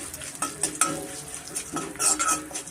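Asafoetida and urad dal fry in a pan with a light crackling sizzle, punctuated by clattering stirs and utensil knocks against the metal.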